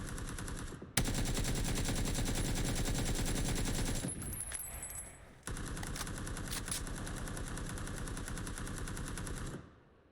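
Sustained full-auto bursts from 7.62 rifles in the PUBG video game, fired without recoil control; rapid continuous gunfire with a brief pause partway through, then another long burst.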